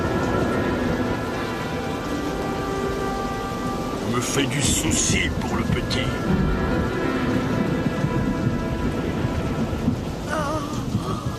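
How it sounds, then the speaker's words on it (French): Steady heavy rain pours with a rumbling roll of thunder in the middle, a continuous storm bed under a voice speaking in an animated tale. "Cette année-là, il plut beaucoup. Il y eut des orages, des tempêtes et même un raz-de-marée."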